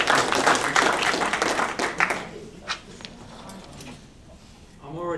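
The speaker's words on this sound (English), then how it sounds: "let's give him a round of applause." Audience claps for a speaker at a post-Covid gathering, a burst of dense applause that quickly thins to scattered claps and fades out, with a voice starting up at the end.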